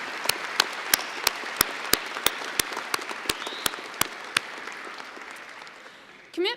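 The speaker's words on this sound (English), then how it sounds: "let's give them a round of applause to recognize their commitment and dedication to you" Audience applause at a college winter convocation, with a broad bed of many hands clapping and a few louder, regularly spaced claps standing out close by, fading slightly toward the end.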